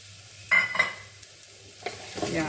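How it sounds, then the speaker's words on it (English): Chopped onion and whole spices frying for Durban-style chicken biryani, stirred in a pot: a soft sizzle broken by two sharp scraping strokes early on and another burst of stirring later, with no speech. "Yeah, then give a stir"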